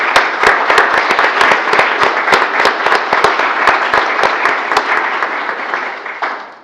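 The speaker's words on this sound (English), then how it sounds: "If y'all will stand up and let us clap for y'all." Meeting audience applauding task force members at a work session, a dense, steady burst of clapping with sharp individual claps standing out, holding loud for several seconds before tapering off at the end.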